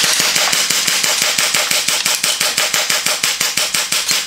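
Rapid automatic gunfire from a weapon in a video game, a long, evenly spaced stream of loud sharp shots, about five per second, with no talking over it.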